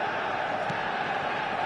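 Stadium crowd in a football video game, a broad steady roar of many voices without a break, moderately loud and unchanging across the short stretch.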